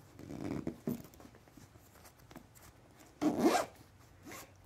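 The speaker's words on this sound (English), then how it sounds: "I'll go and zip this up." A zipper is drawn along a memory foam travel pillow's case, with short rasping pulls early on and a longer, louder zip near the end, recorded close and with no talking.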